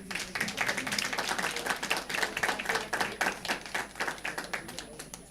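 Audience applause at a conference session on legal frameworks and justice for women in Africa, a steady patter of many hands clapping at moderate volume throughout, with no talk over it.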